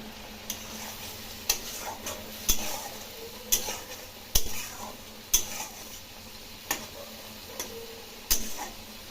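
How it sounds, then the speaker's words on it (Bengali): Spices with bay leaf and garam masala frying in a pan for a prawn curry, a low sizzle under regular sharp stirring taps of a spoon against the pan, about one every second. "এখন মশলা দিয়ে কষিয়ে নেব। এর মধ্যে তেজপাতা দিলাম আর গরম মশলা দিলাম।"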